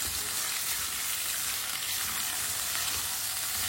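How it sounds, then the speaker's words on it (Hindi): Food fries in a pan while a spoon stirs it, giving a steady, close, bright crackling sizzle that runs unbroken throughout, with no talk. "इसे 4-5 मिनट के लिए ऐसे ही चम्मच चलाते हुए पका लेंगे।"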